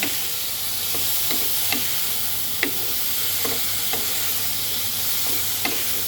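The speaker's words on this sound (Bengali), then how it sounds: "একটু নেড়ে দিলাম না হলে মশলাগুলো পুড়ে যাবে" Potatoes and spices fry in a pan under a steady sizzle, with a spoon scraping and tapping at irregular intervals, close and alone.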